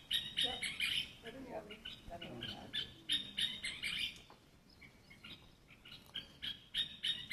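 A scissor-tailed flycatcher calling in a series of sharp, high chirps and chattering bursts, fairly close, with quiet pauses between runs and faint background noise.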